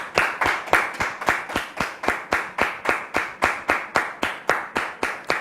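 An audience claps in a steady rhythmic beat, roughly three to four claps per second, to welcome a visitor named Brother Iba, with no voices over it.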